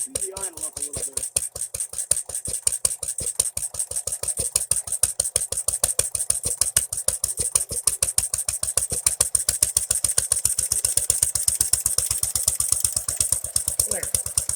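A Standard Monarch tractor engine idles with a steady, rapid chuffing beat, close and prominent throughout, the pulses quickening slightly as the idle is raised.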